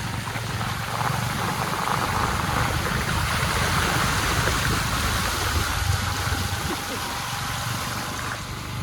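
Floodwater rushes and churns continuously while someone wades through water two to three feet deep toward the Ravi river in the Gurdaspur area. It is a loud, steady broadband wash heard up close.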